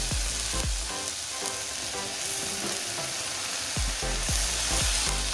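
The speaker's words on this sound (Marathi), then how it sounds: "आता मी त्याच्यात टमाटर घालते." Tomatoes frying in hot oil with chillies and onion for a Goan dry clam dish, a steady loud sizzle with a few dull spoon knocks against the pan.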